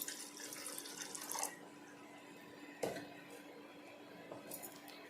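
Water runs and splashes into a cooking pot for matar soup, a soft, faint trickle with a few small clinks of metal utensils, close and without talk.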